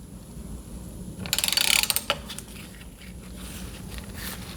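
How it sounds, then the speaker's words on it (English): Ratchet turning a motorcycle brake caliper piston, a quick burst of rapid clicking pawl ratcheting near the middle, then a few scattered metallic clicks over a quiet workshop background. "just throw a ratchet on this thing, and through the powers of friction you should be able to at least spin the piston"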